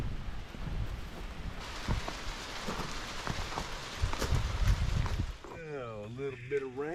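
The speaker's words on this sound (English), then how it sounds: "Oh, a little bit of rain." Light rain pattering steadily on surfaces outdoors near a small goat barn under construction, a continuous close hiss with scattered drops that gives way to a tonal swooping sound near the end.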